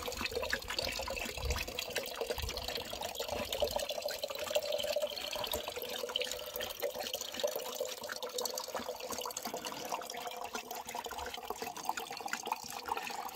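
Water running steadily from a spring fountain outdoors on a hot August afternoon, a continuous close splashing trickle with no speech over it.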